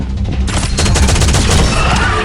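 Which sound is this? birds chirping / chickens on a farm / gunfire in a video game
gunfire in a video game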